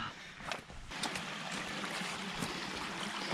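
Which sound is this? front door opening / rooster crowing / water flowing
water flowing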